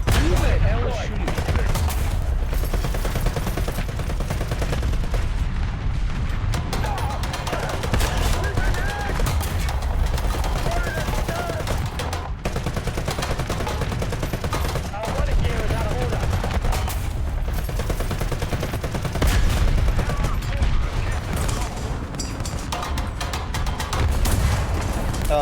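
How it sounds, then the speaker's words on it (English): Dense gunfire in the War Thunder video game, continuous machine-gun bursts mixed with heavier booms and single shots, loud and sustained, with a player talking over it. "Who the hell is shooting?"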